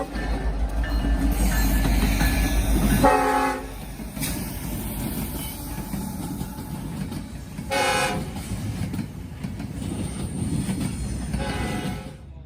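Norfolk Southern freight train rolling past with steady rumbling wheels on rail, its horn sounding two distinct blasts, one early and one about five seconds later, loud and close, with no voices.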